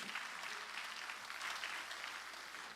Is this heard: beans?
no